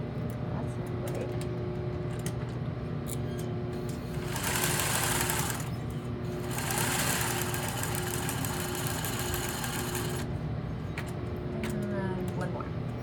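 A sewing machine set to zigzag stitching hums and chatters continuously up close, rising slightly in intensity in two stretches, with faint talk underneath at times.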